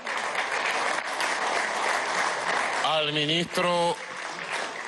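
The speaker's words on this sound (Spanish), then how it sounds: "un aplauso al cumpleañero" Applause fills a government meeting of governors and mayors, honouring the planning minister's birthday; steady crowd clapping runs under someone speaking over a microphone, with a harmonic tone cutting in partway through.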